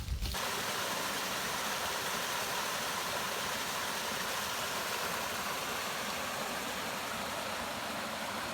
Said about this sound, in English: A lot of the trail runs along this, beside this creek.